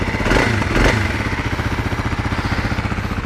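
A 2021 Kawasaki KLX300 dual-sport motorcycle engine runs close by, two quick throttle blips followed by a steady, pulsing single-cylinder idle.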